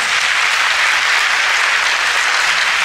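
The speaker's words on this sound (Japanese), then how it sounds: "桜ヶ丘高校のみんなにも大きな拍手をお願いします。" Audience applause for a band performing with a high school cheer squad at a live concert, a dense, steady roar of clapping filling the whole stretch, loud and close, with no voices over it.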